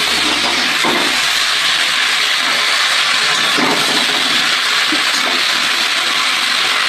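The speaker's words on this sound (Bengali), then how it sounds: "চিনি দিয়ে আমি কষিয়ে নেব" Spices sizzle with added sugar in a pan while jackfruit and prawn curry is being cooked, a dense, continuous frying hiss close by with a few soft clinks of stirring.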